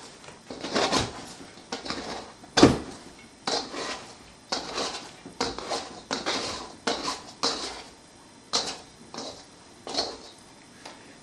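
A bread scraper drags focaccia dough down the side of a mixing bowl in a series of short, close scraping and knocking strokes, fairly regular with brief pauses between them.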